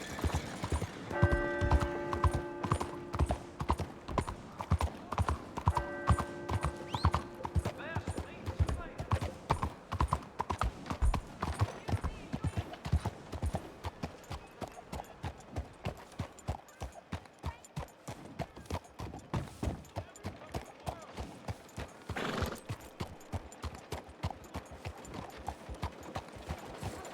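Horse hooves clip-clop steadily in Red Dead Redemption, a fast rhythmic gait running nearly the whole time at close range, with brief musical tones early on and spoken voices over it.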